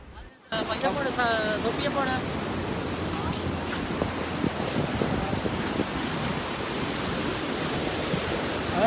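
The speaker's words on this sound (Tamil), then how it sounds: "இன்றைக்கு வந்து செம்மையை அலை அடித்து கொண்டு இருக்குது" Strong ocean waves crash against a rocky beach in Colombo, a loud continuous roar of surf with wind buffeting the microphone and faint voices nearby.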